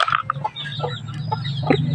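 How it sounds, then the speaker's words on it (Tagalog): Chickens cluck and chatter close by while being fed, several birds giving short overlapping calls over a low steady background hum, with no talking. "So patuka tayo ng manok natin."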